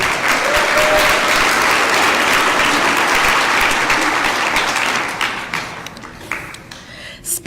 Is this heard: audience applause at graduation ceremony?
yes